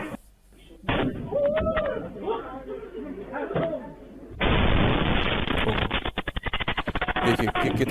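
A sudden loud blast hits after muffled voices and thuds, followed by a sustained roar with rapid crackling as an explosion blows out a whole window.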